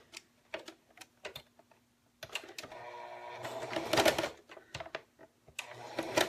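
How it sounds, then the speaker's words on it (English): A sewing machine stitches fabric for paper-pieced snowman quilt blocks, close by: short clicking bursts at first, then a steadier running whir with a louder surge in the middle, alone without talk. "you're going to sew on this side right where 2 and 3 meet, or 1 and 2, excuse me, right where 1 and 2 meet, you're going to sew"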